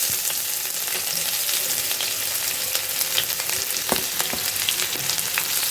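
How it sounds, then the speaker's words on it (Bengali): Chopped onion frying in hot reused fish-frying oil in a pan, a steady close sizzle with faint stirring clicks and no talking. "এবার পেঁয়াজ কুচি দিয়ে দিলাম।"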